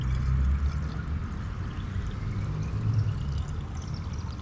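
Water pours from a watering can onto freshly transplanted pepper plants in a garden, a continuous close splashing trickle that swells at the start and again near the end, with no talking.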